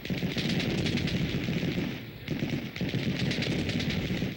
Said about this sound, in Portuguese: Metralhadoras e fuzis pipocaram de ambos os lados durante 4 dias seguidos.